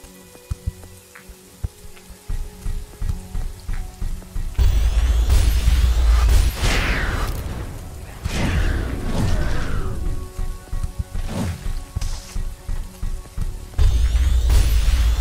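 Rain falling in the video game The Riftbreaker, a dense steady hiss of drops that swells loud with crackling thunder-like rumbles in the middle, quieter at the start and end.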